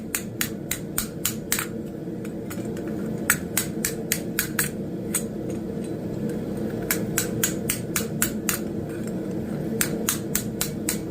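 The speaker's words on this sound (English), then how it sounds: "Not very heavy blows with the hammer, I'm just tapping it." A hammer lightly taps metal while making a hog scraper, in quick clusters of sharp, ringing strikes over a steady background hum, pausing briefly between bursts.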